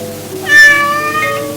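A cat gives a single clear meow close by that rises and falls over quiet background.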